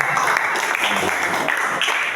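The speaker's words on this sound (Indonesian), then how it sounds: "beri tepuk tangan buat kelompok 1" A school class applauds a student group after its presentation, with brisk, fairly loud and close clapping from many hands and a few voices mixed in.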